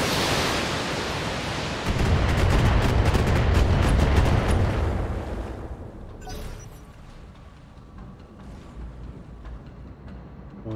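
Heavy mech weapons fire in the BattleTech video game, a dense roaring barrage of booms and crackles that swells loud for a few seconds, then fades into a quieter rumble with scattered distant impacts.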